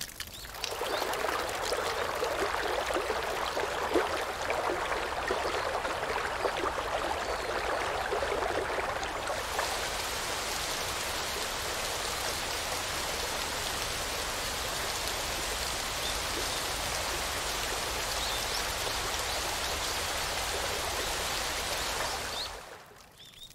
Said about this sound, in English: The cold mountain water spreads over the dry fields.